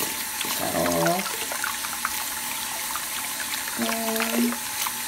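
Water runs steadily from a tap while dentures and a toothbrush are rinsed under it, close and continuous. Brief background voices come through.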